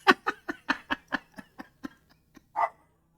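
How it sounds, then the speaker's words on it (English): Mia the dog barks at a skunk in a rapid string of about a dozen sharp barks that shorten and fade, then a single louder, rounder bark after a brief pause. "it's not even worried about Mia barking at us"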